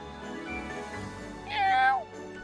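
A cat meows once in a video game, a clear rising-and-falling mew near the end, over a steady background of game music and ambience with some talk.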